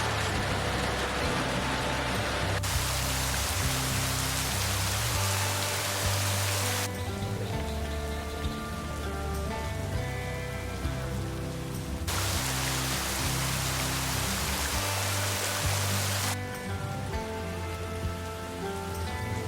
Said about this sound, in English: It's definitely a light rain,